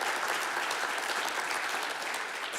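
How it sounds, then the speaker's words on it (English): An audience at a morning business meeting held at a beverage distributor's venue breaks into a steady, dense round of applause that runs throughout without letup. "How about a nice round of applause for these guys"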